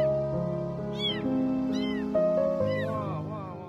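A kitten gives several high, rising meows over a background of sustained music-like tones, the cries close and clear, spaced about every second.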